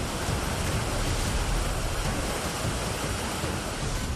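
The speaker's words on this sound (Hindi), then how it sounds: "धर्मशाला के पास गजगढ़ में पानी किसी बड़ी नदी की तरह बह रहा है।" Flash flood water at Gajgarh near Dharamshala surges like a big river, a dense, steady roar of rushing water that stays loud and unbroken throughout, with no voices over it.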